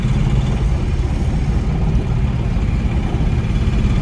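Heavy road traffic passes under the Koyambedu flyover in Chennai, a loud continuous rumble of engines close by, steady and dense throughout with no voices.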